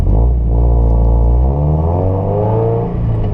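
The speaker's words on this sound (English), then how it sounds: "I've got a DC Sports catback exhaust with headers, and that has just awakened the car" Scion FRS engine with a DC Sports catback exhaust and headers revs loud and close, a deep throaty drone whose pitch sweeps up and down between revs, with no talking.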